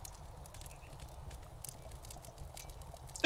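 Horse in the Kingdom video game, a faint steady clip-clop of hooves trotting at an even pace, low in level and continuous.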